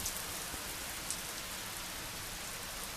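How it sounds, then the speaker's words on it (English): Steady rain falls and patters on surfaces, a dense continuous hiss with occasional louder drops, fairly soft and even. "And this is the rain."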